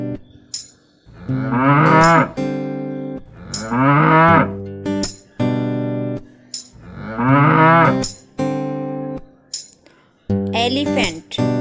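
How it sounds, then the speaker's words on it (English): A cow moos three times in long, loud, drawn-out calls, close and clear, with sharp clinking sounds between the moos. "cow,"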